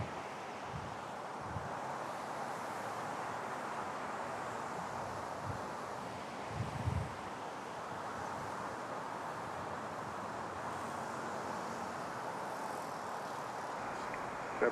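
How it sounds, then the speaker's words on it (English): Wind blows steadily outdoors at night in New York City near an airport, a constant broad rushing noise with occasional low gusty thumps against the microphone. "A little bit windy."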